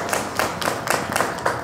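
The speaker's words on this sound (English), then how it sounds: "let's clap for that." An audience at a college alumni fireside chat claps together, a loud, close round of applause with rhythmic pulses of hand claps roughly every quarter second.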